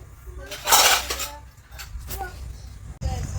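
Metal pots and vessels clank and clink together in a short burst, followed by lighter scattered knocks while voices murmur nearby.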